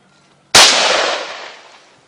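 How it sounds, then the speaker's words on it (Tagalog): A single loud, close gunshot with a sharp crack that decays into a long rumbling tail, with no talking. "Firing!"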